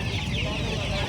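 Fancy chickens cluck at Mydukuru poultry market, a short burst of hen calls over a dense market bustle with voices mixed in.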